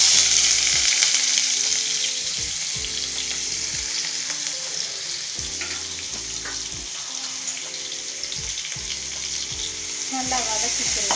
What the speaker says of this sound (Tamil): பொடியாக நறுக்குன சின்ன வெங்காயம்,